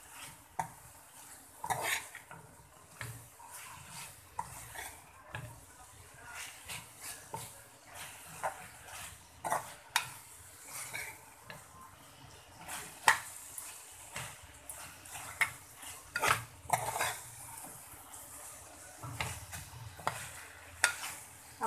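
A utensil stirs fried potatoes and pointed gourd (parwal) in a pan, giving irregular metallic clinks and scrapes over a faint sizzle, close up with no talking.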